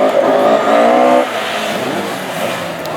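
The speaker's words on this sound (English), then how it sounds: "a great number of classic hot rods out to put on some superb racing" Classic hot rod race cars roar loudly at the Hednesford oval during an English Open heat, engines revving hard with harmonic whine before dropping to a rougher, broader rumble of several cars racing.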